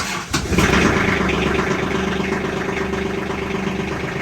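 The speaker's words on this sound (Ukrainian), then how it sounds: "включаємо свічку накала, розжарування і заводимо тракторець" A Kubota GT21 compact tractor's small diesel engine, started after heating the glow plugs, cranks briefly, catches and settles into a steady, loud, close idle with a low rhythmic chug.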